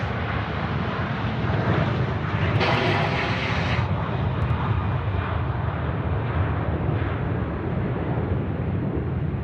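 A Singapore Airlines jet at Sydney Airport roars steadily and loudly for several seconds, a broad sustained engine rumble with a brief brighter hiss partway through and no talking.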